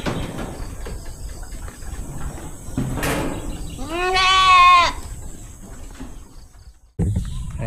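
Goats on a farm giving one loud, wavering bleat near the middle, set against a constant rough background of rustling and movement, with a knock or door-like thud just before it.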